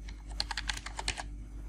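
A quick run of keystrokes on a computer keyboard, about a dozen light clicks in close succession, close and fairly quiet, ending in a brief pause with no voices.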